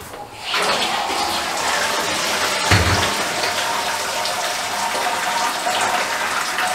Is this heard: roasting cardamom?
no